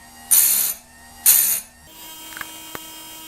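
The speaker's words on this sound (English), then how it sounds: "by carefully using it, as a guide, I can sharpen these teeth" Chain teeth on a McCulloch 3516 chainsaw are sharpened against a plastic sharpener frame: two short, harsh rasping strokes up close, followed by a quieter stretch with a faint steady hum and a couple of small ticks.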